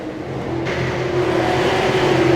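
Super late model race cars circle Richmond International Raceway, including the number 2 car, in a steady loud engine roar that swells slightly over a couple of seconds, with a sustained engine drone and no talk.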